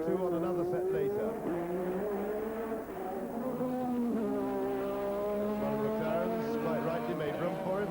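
Ayrton Senna's Formula One car at full revs during 1985 qualifying, winding up over the start-finish line; a sustained high engine wail with shifting pitch, heard under a commentator's voice.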